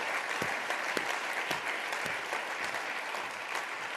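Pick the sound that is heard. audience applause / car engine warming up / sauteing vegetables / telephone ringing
audience applause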